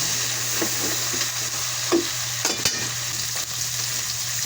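Steady frying sizzle fills the pan while cooking Sinigang sa Miso, with a few scraping stirs and clinks of a utensil over a low hum.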